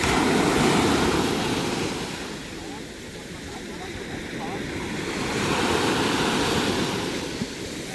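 Deep sea waves wash near the shore at Palma, with a steady surf roar swelling and easing across the span. Wind buffets the microphone, and faint voices may sit underneath.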